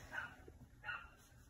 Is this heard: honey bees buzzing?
no